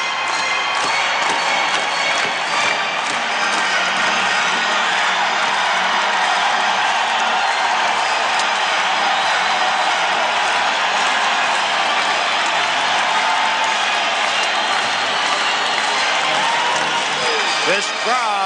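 A packed St. Louis arena crowd at a 1988 NHL playoff game between the Blues and Chicago Blackhawks roars and applauds steadily, a dense continuous wall of cheering that holds loud throughout.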